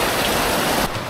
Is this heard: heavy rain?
yes